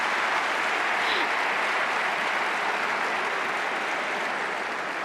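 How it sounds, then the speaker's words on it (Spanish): A large audience at the Madrid Economic Forum gives sustained, dense applause, a steady roar of many hands clapping throughout without pause. "Un fuerte aplauso, por favor, para Ramón Tamames."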